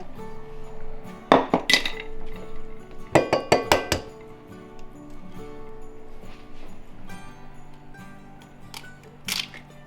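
An egg is cracked against a bowl for Christmas cookie dough, giving two sharp clusters of close taps and clinks, followed by quieter bowl and utensil sounds.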